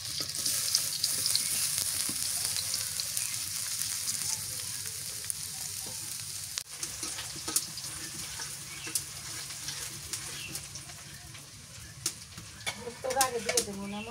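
Onions fry in a pan for a chicken curry with jackfruit, giving a continuous dense sizzle with occasional stirring clicks and a brief voice near the end.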